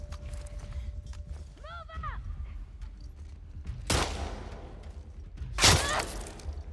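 Two loud gunshots from The Last of Us Part II, each a sharp burst with a ringing tail a couple of seconds apart, following softer mechanical clicks and a brief creaking whine.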